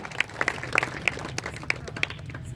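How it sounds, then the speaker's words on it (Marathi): Scattered, fairly quiet clapping from a crowd at a village wrestling (kusti) bout in Wadachi Wadi, Pune; individual sharp claps stand out irregularly over a soft background murmur rather than forming a full roar. "कुस्त्या जोडणाऱ्यांसाठी सुद्धा जोरदार टाळ्या व्हायला पाहिजेत"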